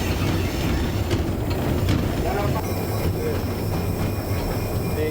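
A museum train rolling on rails toward a turntable pit, its steady low wheel rumble filling the scene with faint high squeals as it brakes, while someone talks over the noise.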